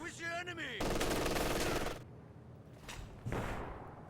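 Machine gun fire in a Company of Heroes 2 battle: a sustained, dense burst of rapid shots about a second long, then quieter pauses and another short burst, with voices and battlefield noise around.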